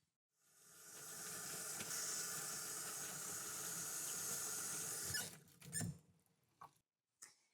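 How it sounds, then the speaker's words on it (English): Water runs steadily from a sink faucet as a nursing assistant washes hands after perineal care, a continuous hiss with faint squeaks, then the tap shuts off and a few brief handling knocks follow. "I'm going to open your privacy curtain and go wash my hands."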